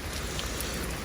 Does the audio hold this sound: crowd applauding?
no